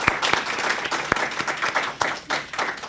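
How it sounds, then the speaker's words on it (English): An audience applauds a winning middle school team at an awards ceremony in Washington, moderate clapping with a few sharp, close individual claps standing out from the crowd. "let's do another round of applause for our amazing winning team from Litchfield Middle School"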